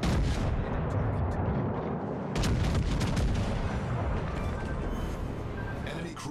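Naval guns of the battleship USS Texas fire at an enemy warship in a naval combat video game, a dense, sustained barrage of loud booming blasts layered over constant rumbling battle noise.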